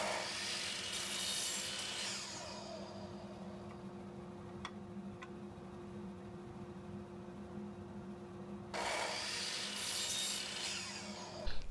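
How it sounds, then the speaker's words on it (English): A miter saw set to 4 degrees cuts a wooden chair stretcher: a motor hum runs throughout, with two loud, rasping bursts of blade cutting near the start and near the end, and no talking. "Now back to the miter saw. I have to set the table here to 4 degrees,"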